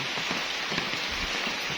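Rain falls steadily in a banana garden, a dense even patter of drops on leaves and ground, close and moderately loud, with no voices.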